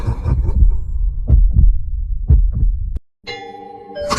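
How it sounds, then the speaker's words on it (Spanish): Slow, loud paired thumps of a heartbeat sound effect in a dramatized reading of Poe's The Tell-Tale Heart, pulsing steadily before giving way to a sustained ringing tone with no talk. "Es el latido de su espantoso corazón."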